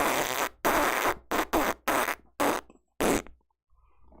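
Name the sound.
fart into the microphone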